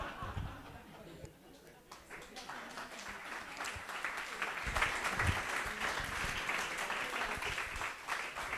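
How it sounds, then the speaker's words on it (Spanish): A university forum audience applauds in a sustained burst of dense clapping that holds steady to the end, with some scattered laughter and chatter mixed in. "también un aplauso especial a la doctora Nancy Piedra por la organización"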